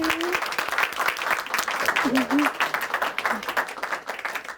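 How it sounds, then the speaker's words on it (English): An audience applauds at a Houston community event, steady clapping running throughout while a host speaks over it. "Please join me with a round of applause"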